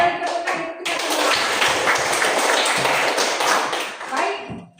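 A class of children claps together in a classroom, a dense burst of many hands starting abruptly after a few lone claps, sustained for about three seconds and then tapering off, close and fairly loud.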